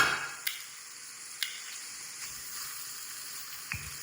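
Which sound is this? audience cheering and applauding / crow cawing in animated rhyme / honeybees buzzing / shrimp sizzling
shrimp sizzling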